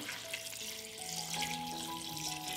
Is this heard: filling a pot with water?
yes